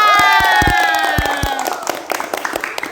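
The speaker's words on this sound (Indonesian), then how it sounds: "tepuk tangan dong untuk kita semua" An audience at an Indonesian talk show cheers and whoops loudly, with high excited voices and some scattered clapping near and loud, the shouting fading over the final second.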